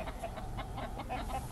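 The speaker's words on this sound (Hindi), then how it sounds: "आपकी मुर्गियां तो बहुत ही अच्छी हैं" Hens on a small farm clucking in a steady run of short, repeated calls, close and fairly loud, with no voices over them.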